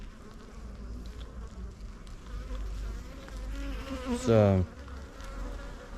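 Honey bees buzz steadily at an open beehive during a brood inspection, a continuous close insect drone with one louder, rising buzz as a bee passes near; a brief word is spoken.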